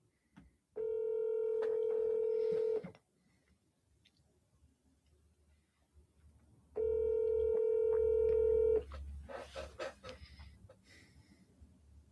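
Telephone line tones on an outgoing call: two long, steady ringback tones about two seconds each, separated by a pause, followed by soft clicking and handling noise, close and clear with no talk.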